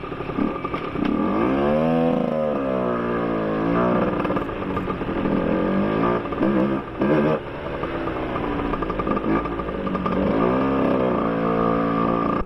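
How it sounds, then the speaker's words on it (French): A 50cc moped engine, AM6 or Euro type, warms up nearby, idling with a steady buzz broken by repeated rising and falling revs, loud and continuous throughout. "On va faire chauffer la moto en attendant."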